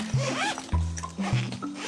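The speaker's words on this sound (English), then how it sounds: "And another thing is these zippers aren't in the best repair." A worn zipper on an old truck camper window, in poor repair, is pulled in three quick rasping strokes, each a short burst about half a second apart, close and fairly loud with no talking.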